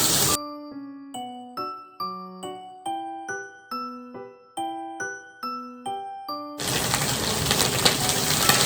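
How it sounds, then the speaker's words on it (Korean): Cream pasta ingredients are stir-fried in a pan, ending in a steady close sizzle that follows a bright plucked melody of ringing notes; no one speaks. "이번에 2, 3분 정도 살짝 볶겠습니다"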